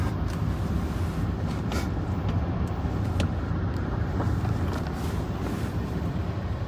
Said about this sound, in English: The car drives great and the suspension is smooth like butter.